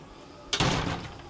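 A custom-fitted door in a house in the Philippines swings shut with one firm, close thud that rings out briefly afterward.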